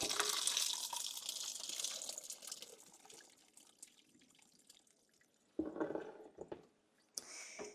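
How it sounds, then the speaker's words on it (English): Cooked corn in a pot being drained into a kitchen sink, a rushing pour of water that gradually thins to trickles and drips, then a couple of renewed splashing bursts near the end. "First thing we need to do is drain the pot."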